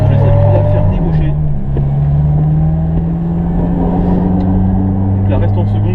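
A Ferrari F400 being driven round a racing circuit, its engine a loud, close, sustained drone rising and falling in pitch with gear changes, heard from inside the car under continuous talking.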